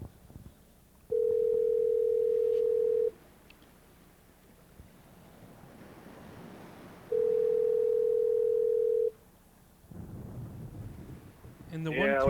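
A telephone dial tone sounds while a call is being placed: two steady, loud tones of about two seconds each, separated by a few seconds of quieter background noise.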